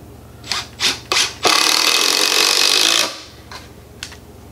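A power tool drives 3-inch coarse drywall screws into wood to build sawhorses: three short whirring bursts, then one long, loud run of about a second and a half, with faint scrapes afterward.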